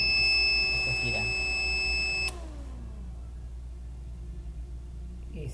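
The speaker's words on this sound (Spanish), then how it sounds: "Vemos que suena la alarma y de que él está girando" An electronic voltage regulator project sounds a steady tonal alarm buzz for about two seconds before it abruptly cuts off, leaving a quieter hum and faint mechanical background noise.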